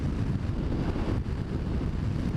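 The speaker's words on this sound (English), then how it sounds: "wow, a lot of wind." Steady, heavy wind buffeting the microphone while riding a 1997 Yamaha Diversion motorcycle, a continuous low roar with engine rumble beneath and no voices.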